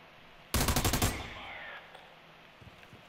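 Gunfire in the video game America's Army: Proving Grounds comes as a sudden, loud automatic burst of rapid shots lasting about half a second, followed by a fading echo and a sharp report at the very end.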